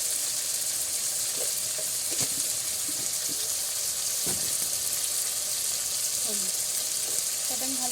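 Jackfruit and paneer are sautéed in a pan, producing a continuous bright sizzle with scattered clinks and scrapes of stirring and a faint voice in the background.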